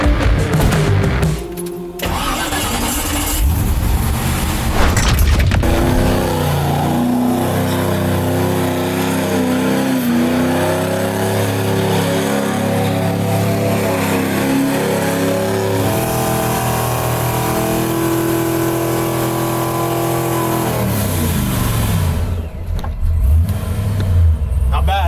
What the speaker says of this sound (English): It's the line lock and everything's already on. It will literally stay in the same spot and just do a donut.